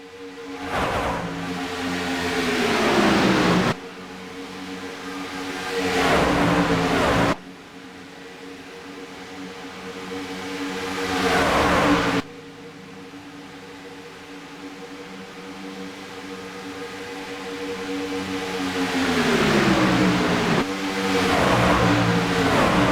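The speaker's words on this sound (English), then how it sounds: "Let you hear them motors roar a couple laps around the track." Stock car engines roar around the Talladega superspeedway in a loud, sustained drone, swelling and dropping in pitch as cars pass in sweeping waves over several laps, with no talking.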